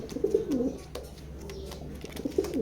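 A black racer pigeon coos in a few soft, rolling bursts spaced across the moment, fairly faint against quiet background hiss.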